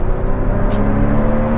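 A Porsche 911 996 pulls hard in second gear, its loud, close engine note a steady, rich drone from inside the car, with no talk over it.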